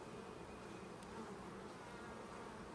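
Honey bees drone steadily throughout an open brood-chamber hive during an inspection, a dense, even buzz with no voices, at low level.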